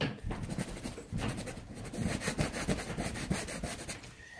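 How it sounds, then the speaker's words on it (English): A brush dampened with solvent scrubs pencil marks off a painting, making a steady, soft, close rubbing and scratching sound in quick back-and-forth strokes with no talking. "just erasing the pencil where I don't need it anymore."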